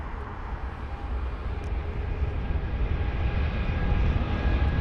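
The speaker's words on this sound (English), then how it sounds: "you've got the 787 on the runway now, which is going to be heading on over to New Orleans" Steady jet roar of a Boeing 787-8 Dreamliner on the runway at London Heathrow, a broad engine rumble with a faint whine that builds gradually louder.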